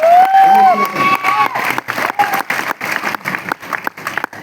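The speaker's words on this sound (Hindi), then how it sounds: "जोरदार तालियां सारे रैंक अचीवर्स के लिए।" Audience applause for rank achievers at the Jashn e Kashi stage event: a loud burst of clapping and cheering from a crowd, opening with a shouted whoop, then continuing in uneven waves of claps.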